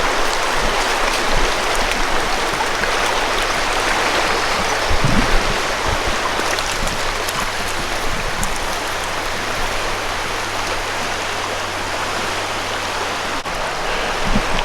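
A river flows past in a continuous, full rushing wash of water, steady and close throughout with no break.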